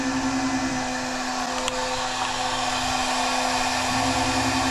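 A CNC machine raises its Z axis, giving off a constant motor whine and hum with a steady pitch, close and unbroken, with a faint click partway through.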